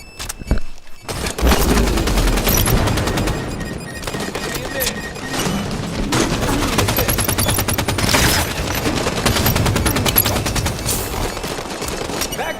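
Dense automatic and single-shot gunfire in the Halo 5 beta multiplayer, with rapid bursts, sharp cracks and impacts layered continuously and loudly for the full stretch, and no clear speech.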